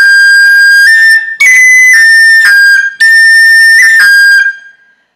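Solo whistle plays the second phrase of the Irish tune Scatter the Mud, a loud, bright run of clear notes in two short bursts separated by a brief gap, with no talking.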